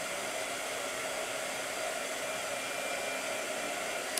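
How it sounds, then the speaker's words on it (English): A blow dryer runs steadily and close throughout, a loud continuous broadband whoosh with no talk over it, used during a letter-painting session. "again with the blow dryer"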